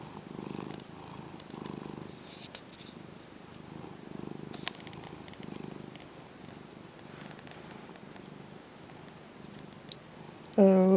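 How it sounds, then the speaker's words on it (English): A cat curled on a lap purrs close up in steady rhythmic pulses, soft and continuous for several seconds, ending with a brief louder voice-like sound. "Can you hear him purring?"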